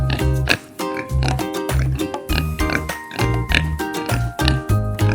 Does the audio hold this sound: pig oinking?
yes